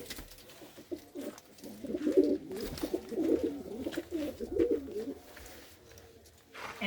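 A red pigeon cooing in a home loft, a steady run of soft, throaty coos repeating close by over a low background hum, with no talk.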